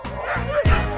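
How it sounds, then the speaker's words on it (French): Harnessed sled dogs in Yukon snow bark and yelp excitedly before a sled departure, several close, overlapping barks in a short burst with no speech. "Les chiens sont attelés, nous voici proches du départ."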